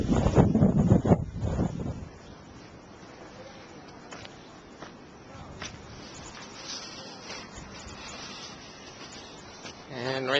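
Wind during a New Jersey blizzard buffets the microphone in a strong gust at the start, then settles into a lower, steady rush with occasional faint rustles and a brief burst at the end.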